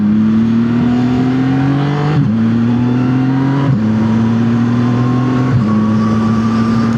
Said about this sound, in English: this quick shifter, you don't get that weird jerk when you're going up in gears while the power instantly comes back on